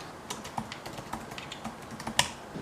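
Quick, close taps on a computer keyboard, a dozen or so light clicks in an uneven rhythm with one sharper keystroke near the end, fairly quiet and with no voices.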